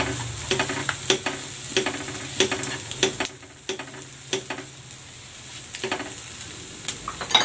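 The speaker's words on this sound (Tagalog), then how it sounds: "Gisa ko na tong luya. At ang sibuyas." Ginger and onion sautéing in a pan for cabbage and tofu soup: a continuous sizzle broken by regular spatula stirs and scrapes, close and fairly loud, with a brief lull midway.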